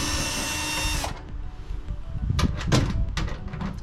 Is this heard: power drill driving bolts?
yes